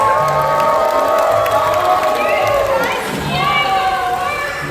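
A SeaWorld crowd on the Gold Coast cheers and shouts for Julius, an 18-year-old California sea lion, with children's voices rising in a steady, loud roar that swells briefly and then eases slightly near the end.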